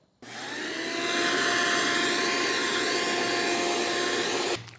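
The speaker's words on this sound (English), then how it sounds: "While the vacuum does get the bulk of the loose dust off of here" A vacuum cleaner roars on steadily and close by for several seconds while removing sanding dust from wood being finished, then cuts off abruptly, with no talking.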